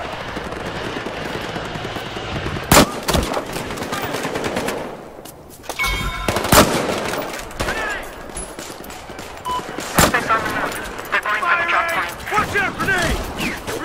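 Bursts of automatic gunfire from the video game Battlefield Hardline, with sharp loud shots at intervals and rapid fire amid game noise and a voice talking over it.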